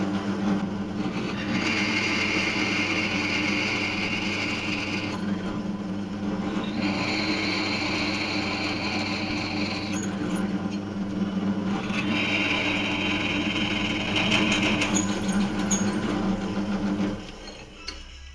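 Steady drill whine as holes are bored with a 9 mm bit, three longer high-pitched drilling passes over a constant motor hum, close and continuous.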